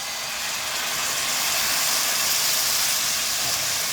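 Minced garlic sautés in a pan of olive oil and butter, giving off a steady, bright sizzling hiss that holds evenly from start to finish with no talking.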